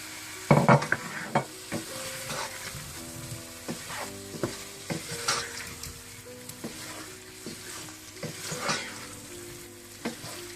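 Chicken, capsicum, onion and tomato sizzle in tomato puree for chicken shashlik, with steady frying hiss broken by repeated clinks and scrapes of stirring against the pan, close and fairly loud.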